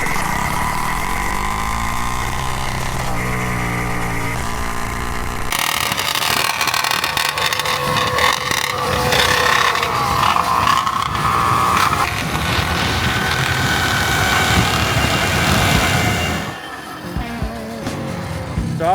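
A two-stroke engine on a hybrid test rig runs rough with the choke on, a loud steady drone whose tone shifts partway through before dropping off near the end.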